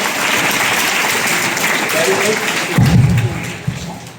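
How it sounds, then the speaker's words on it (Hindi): An assembly of students and staff at a school event claps for a student, a steady round of applause under a voice heard toward the end. "जूनियर हाउस अभिषेक के लिए एक बार जोरदार तालियां हो जाए"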